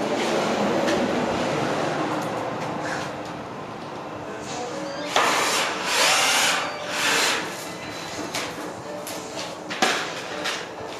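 A power drill with a 1/8 inch bit whirs in short bursts, revving up and winding down several times as self-tapping screws are driven into a van roof, with a steady mechanical background hum.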